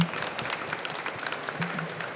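Audience applause at a panel session of a hospital trade fair, a dense crowd of clapping hands held steady for a couple of seconds.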